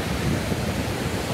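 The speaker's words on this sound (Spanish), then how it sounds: "Vean, hay olas ahorita y normalmente no está tan grande aquí." Surf on a beach at Playa Tembo near San Pedro Pochutla, Oaxaca, churned by a ground swell: a steady, full-band rush of breaking waves close by, with no voices.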